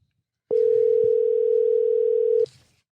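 A phone line sounds a single steady tone lasting about two seconds during a call placed to a guest, clear and alone, then cuts off.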